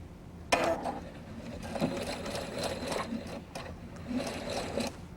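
A sewing machine runs steadily, stitching through folded quilt fabric pieces, with a close, rhythmic mechanical whir that starts abruptly and holds for several seconds.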